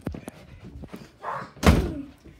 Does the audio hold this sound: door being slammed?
yes